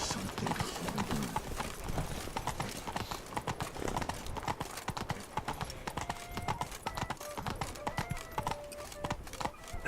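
Hooves of the horse Roach clip-clopping in a steady, brisk trot in The Witcher 3: Blood and Wine, close and continuous, with a brief whinny and faint game sounds underneath.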